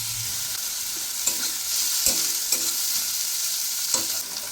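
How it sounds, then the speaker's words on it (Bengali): Chopped chilli and onion sizzle steadily in a hot pan, with a bright constant frying hiss and several soft knocks and scrapes from stirring. "লঙ্কা কুচি আর পেঁয়াজ কুচি একসঙ্গে দিয়ে দিলাম। এবারে কিছুক্ষণ হালকা ভেজে নেব।"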